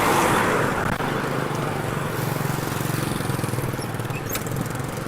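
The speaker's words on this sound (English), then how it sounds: "It, of course, would not be Vietnam without having to cross a few lanes of cars." Road traffic in Vietnam near Lap An Lagoon, with several lanes of cars passing close by: a loud, continuous engine drone and roadway rumble with vehicles rolling past, no voices.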